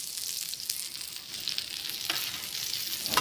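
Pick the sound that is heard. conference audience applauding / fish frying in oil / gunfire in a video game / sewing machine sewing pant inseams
fish frying in oil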